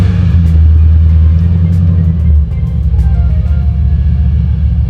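The LS2 V8 in a Datsun 280Z cranks and fires into a loud, deep rumble, then drops to a lumpy idle heard close by.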